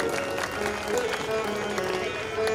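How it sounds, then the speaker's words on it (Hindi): An audience at a Bhagavat katha claps in a brisk, sustained burst, rapid overlapping hand claps with a held tone running beneath, fairly close and continuous for a couple of seconds. "जरा ताली बजा दो।"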